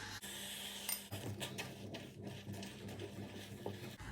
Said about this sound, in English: Now you mix some more until the semolina removes from the walls of the pot easily.